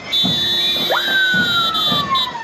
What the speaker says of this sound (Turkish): zabıta araçları da sirenleriyle eşlik etti